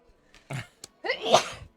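A sneeze bursts out during a board game session of Chronicles of Crime, with short vocal sounds before it; close and moderately loud, a single sharp explosive exhale.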